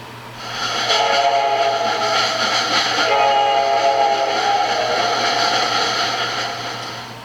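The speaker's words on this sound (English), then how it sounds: "And the morning train rumbles out of the station." A train rumbles out of the station as a sound-book effect, a steady loud mechanical rumble under a long sustained whistle-like horn tone that swells, then gradually fades toward the end, without speech.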